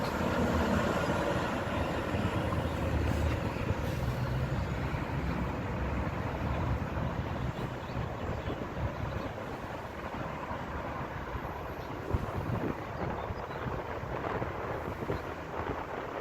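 A Fullington Trailways coach bus rolls past outside a Sonic Drive-In, a broad, steady engine-and-road rumble that holds fairly loud across the whole stretch with wind-like noise and no voices.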